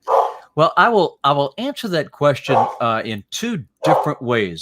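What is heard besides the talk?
dog barking in the background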